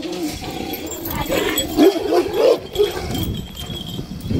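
A young four-year-old dog gives a few short, pitched whimpering whines in quick succession, close and fairly loud, over faint room noise.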